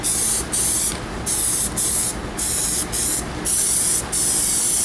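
Aerosol can spraying a Plasti Dip coat onto the front faces of wheel rims, six or seven short hissing bursts separated by brief pauses, close and steady.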